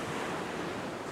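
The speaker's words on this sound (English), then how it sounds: "All of the water coming and hitting this sandbar is draining out." Ocean waves wash onto a sandbar at a beach as a steady, close, windy roar of surf with no distinct breaks.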